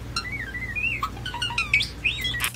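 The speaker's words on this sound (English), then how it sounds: "This bird sounds exactly like R2-D2 from Star Wars." A bird gives rapid, whistling electronic-like chirps and warbling tweets resembling R2-D2 from Star Wars, close and clear over a low steady background hum.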